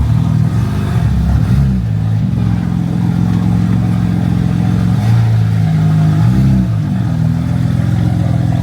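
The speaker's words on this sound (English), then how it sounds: "And you guys hear the exhaust right now?" A BMW G80 M3's exhaust drones loud and close. It rises and falls in pitch as the engine revs up and settles, a thick rumbling note that carries throughout with no talking.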